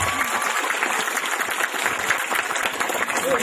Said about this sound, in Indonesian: Tepuk tangan paling banyak.